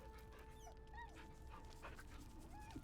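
A dog whimpers in several thin rising and falling whines, faint and somewhat distant over steady background noise.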